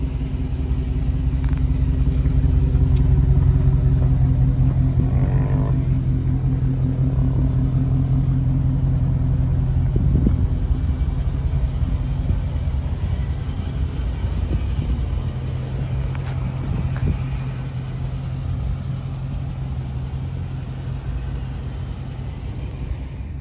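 A Dodge Hemi R/T engine idles close by at a car lot, giving a steady, loud, low rumble that swells slightly early on and then holds evenly with no talk over it.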